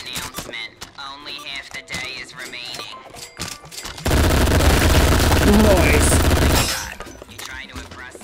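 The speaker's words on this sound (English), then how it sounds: "It usually works best if you shoot guns, not throw them." Rapid machine gun fire erupts in the VR shooter game Shooty Fruity, a loud dense burst lasting a few seconds after stretches of game sounds and talking.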